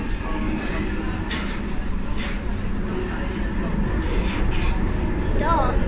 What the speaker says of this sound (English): So we're going to show you the tube train.